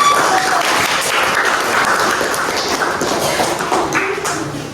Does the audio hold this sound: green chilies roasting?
no